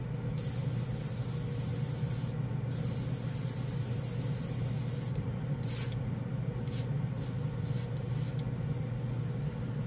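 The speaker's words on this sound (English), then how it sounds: "It's just shooting some paint out now." A Master Airbrush G79 sprays paint with a continuous soft hiss of air, faint and steady, with brief bursts where the hiss brightens.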